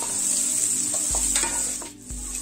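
Potato filling with chilli for bread rolls sizzles steadily as it fries in a pan, with a continuous close hiss and occasional stirring knocks, no talking.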